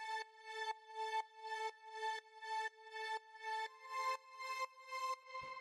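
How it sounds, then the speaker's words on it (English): Synth string patch from a melodic house track, playing evenly spaced sustained harmonic notes in a steady pulsing rhythm that shifts pitch partway through, clean and alone, ending in a brief low thump. "The next sound that we have here is the string"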